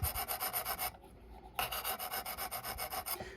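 A knife blade scrapes back and forth on a Work Sharp Precision Adjust sharpening stone in a steady, close, rhythmic series of rasping strokes, with a short pause partway through.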